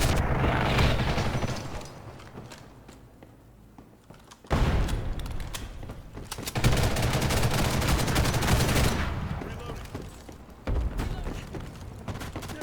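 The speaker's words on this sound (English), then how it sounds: "So they can shoot through that barrier, but we cannot." Bursts of automatic gunfire and booming impacts from the online shooter Ghost in the Shell First Assault Online come in loud waves, separated by a quieter lull, with battle noise filling most of the stretch.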